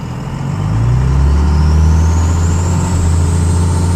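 A 24-valve Cummins diesel truck accelerates hard from a stop, its engine note rising loud and close, then dropping as it shifts out of first gear while a turbo whine climbs steadily above the drone.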